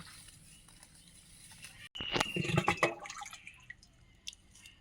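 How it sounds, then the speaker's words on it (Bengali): Chopped banana flower being washed with water, with near splashing, dripping and squelching of wet pieces that starts suddenly after a quiet moment and continues in irregular bursts. "এবার আমরা জল দিয়ে মোচাটাকে ধুয়ে নিচ্ছি ভালো করে"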